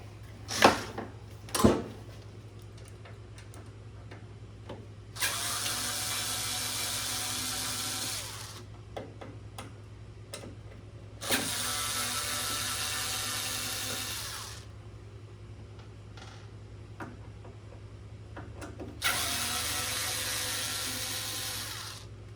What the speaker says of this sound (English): we're gonna remove these 4 screws.